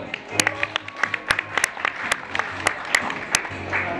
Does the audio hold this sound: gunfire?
no